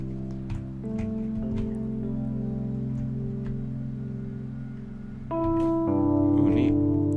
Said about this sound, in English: Oh, rain is coming.